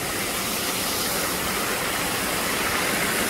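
Dunn's River Falls in Ocho Rios, Jamaica, a steady, broad rush of falling water that stays loud and even throughout, with no voices.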